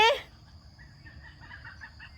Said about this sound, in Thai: อย่าไล่ไก่นะไอ้มี